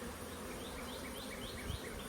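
Honeybees on a beehive frame during colony work hum with a steady, close, droning buzz, individual wingbeats rising and falling over the low constant swarm sound, with no talking.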